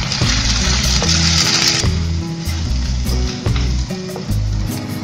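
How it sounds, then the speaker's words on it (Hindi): Gram flour and spring onions roasting in a pan for a besan sabji, giving a steady broad sizzle with a low rhythmic hum and scattered small clinks and scrapes throughout. "प्याज को हल्के से भूनने के बाद हम इसमें बेसन डाल के भून लेते हैं।"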